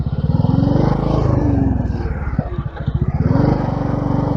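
Royal Enfield Bullet 500 with a sidecar thumps along at close range, its single-cylinder engine pulsing loudly and unevenly as it drops a gear, with a brief clatter while the beat slows and then resumes.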